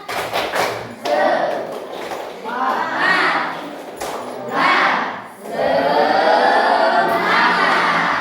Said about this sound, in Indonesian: kita akan melakukan tepuk semangat